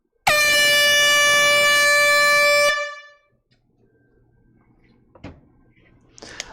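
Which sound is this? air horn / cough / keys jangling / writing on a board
air horn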